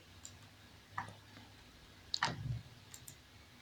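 Computer mouse clicks while working in Photoshop, a few sharp isolated clicks spaced out over a few seconds against a quiet room background, close and fairly soft.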